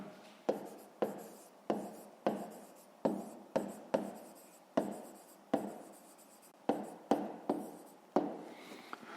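A math solution for a fifth-grade rectangle area exercise is written by hand in a steady run of about eighteen close, scratchy strokes with short pauses between them, and no one speaks.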